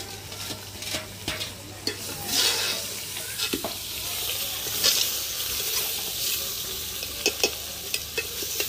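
Vegetable curry with spices sizzles and fries in a pan while it is stirred, giving a continuous hiss broken by repeated scraping and clinking strokes of the spoon.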